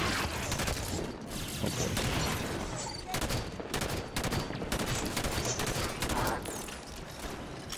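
Gunfire in Halo 5: Guardians, with dense rapid bursts and bangs going on for several seconds near the player and a brief spoken exclamation.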